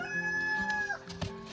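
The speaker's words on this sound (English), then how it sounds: "listening to the roosters crow" On a homestead farm, a rooster lets out one clear, drawn-out crow that ends in a falling note, followed by faint clucks and a soft thump nearby.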